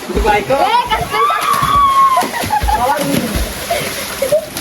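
Water splashing and sloshing as people swim at night in cold water, irregular splashes close by with voices talking and shouting over them.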